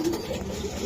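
A racing pigeon at a breeder's loft gives a short, close, low coo that rises over steady background noise.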